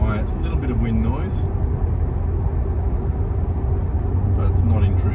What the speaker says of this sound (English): It's quiet, a little bit of wind noise,